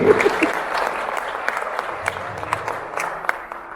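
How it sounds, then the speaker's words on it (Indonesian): A seminar audience applauds steadily, a dense wash of many hands clapping with scattered sharper claps, a few voices mixed in. "Kita beri aplaus buat Pak James Smith sekali lagi"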